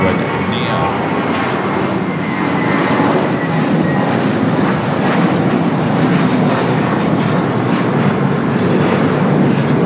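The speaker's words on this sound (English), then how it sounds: "25 right is United flight 2361 coming from O'Hare, an A321neo" A United Airbus A321neo on runway 25 right at LAX produces a loud, sustained jet engine roar, close and steady across the whole stretch, while people speak over the noise.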